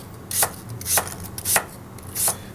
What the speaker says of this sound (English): I just want to do nice, consistent slices like this